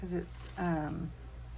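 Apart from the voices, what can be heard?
No distinct noise like a dog, phone or traffic.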